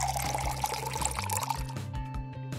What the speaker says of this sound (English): Pour in milk.